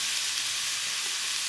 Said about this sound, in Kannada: ಹಾಕ್ಬಿಟ್ಟು ಸ್ವಲ್ಪ ಫ್ರೈ ಮಾಡ್ಕೊಳ್ಳೋಣ